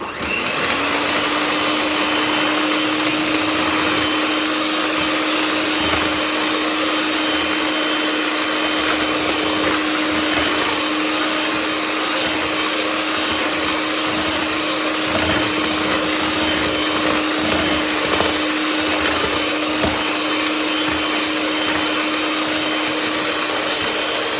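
An electric mixer beats charlotte cake batter of flour, sugar and baking powder, giving a close, continuous whirring whine that holds steady throughout.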